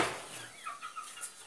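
A hen clucks in short, soft, scattered calls at moderate distance, given a deworming dose among young chicks, with faint background noise and no voices.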